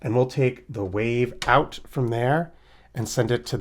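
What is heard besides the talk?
No distinct noise like a dog, phone or traffic.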